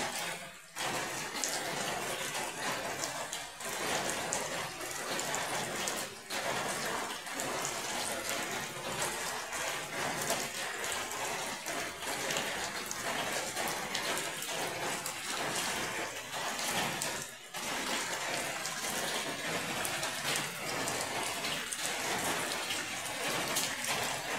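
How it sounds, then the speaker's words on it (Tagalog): Steady rain pours continuously with a dense, hissing wash of water and occasional louder drips, no voices present. "Kaya kagabi pa, tuloy-tuloy ang ulan hanggang ngayon."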